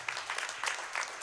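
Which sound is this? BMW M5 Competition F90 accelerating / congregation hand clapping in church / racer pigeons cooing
congregation hand clapping in church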